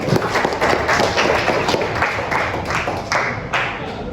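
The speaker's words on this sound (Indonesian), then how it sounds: "Tepuk tangan dulu." A class of students claps hands together in a classroom, a brief, busy burst of many close hands clapping at once, loud and steady, with faint voices mixed in.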